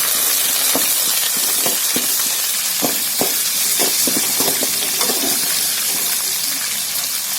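Green chillies and curry leaves fry in a pan, giving a close hissing sizzle broken by scattered pops and crackles, a steady wash of frying noise with no talking.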